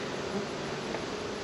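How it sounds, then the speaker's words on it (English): Dense, continuous buzzing of many honey bees, steady and close, with no voices. "I still got a decent amount of bees."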